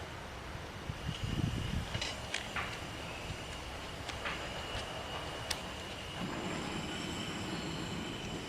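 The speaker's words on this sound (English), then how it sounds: "Let's light the stove" A camping stove is lit outdoors for canteen-cup cooking: a few sharp igniter-like clicks, then a steady, close burner roar takes over under a constant broadband hiss.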